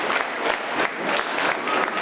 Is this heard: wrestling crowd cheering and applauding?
yes